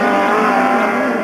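Front-wheel drive rallycross cars, one with a Richard Longman engine chasing a Nova, race flat out on the last lap at Nutts Corner in 1989, a loud continuous engine roar close by.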